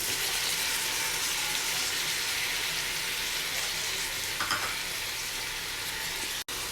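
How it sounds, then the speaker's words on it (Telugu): Garlic paste frying in a pan, a steady bright sizzle running evenly throughout, close and fairly loud, with a brief clink near the end. "పేస్ట్ వేసిన తర్వాత పచ్చివాసన పోయేంత వరకు ఫ్రై చేసుకోవాలండి"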